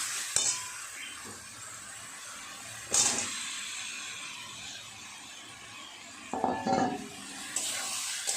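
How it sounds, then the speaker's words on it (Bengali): Potatoes and pointed gourd fried with spices in a pan, stirred with a spatula: a steady soft sizzle runs throughout, broken by several louder scraping stirs against the pan. "আলু পটলের সঙ্গে সমস্ত মশলাটা সুন্দর করে কষিয়ে নেব।"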